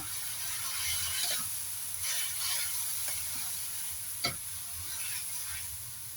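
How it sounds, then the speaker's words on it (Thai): Shanghai noodles stir-fried in a wok with Japanese soy sauce, a steady sizzle under scraping spatula strokes and a few sharper clanks of metal against the pan. "ใส่ซีอิ๊วญี่ปุ่นเข้าไปจ้ะ ผัดก่อนนะคะ"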